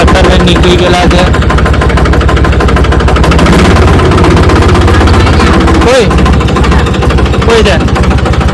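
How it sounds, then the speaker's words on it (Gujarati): A tractor engine runs close and loud with a steady, rapid chugging throb that holds throughout, with a brief clunk near the end. "હવે અમે ટ્રેક્ટર લઈને નીકળી ગયેલા છે."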